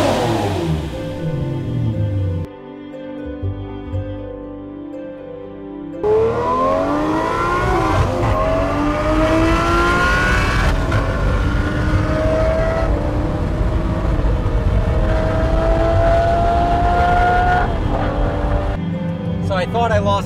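A 2007 Lamborghini LP640 engine revving loudly and close, rising and falling in pitch through repeated throttle blips, with a voice talking over it.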